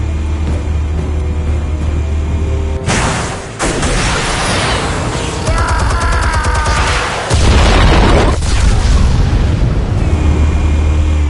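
Explosions in the Batman Telltale video game: a sudden heavy boom bursts in loud and close, followed by rumbling debris and a second surge, all over a steady game soundscape with no talk.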